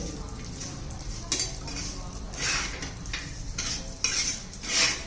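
Sesame seeds and garlic roasting in a little oil in a pan, with a spoon scraping and clinking against the metal in bursts over a soft sizzle.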